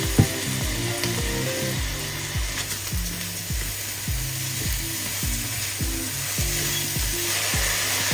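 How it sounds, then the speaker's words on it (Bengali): Rice with salt frying in a pan for hilsa polao, a steady close sizzle throughout with repeated rhythmic scraping knocks of a spatula stirring the grains. "চালটাকে সুন্দর করে ভাজবো।"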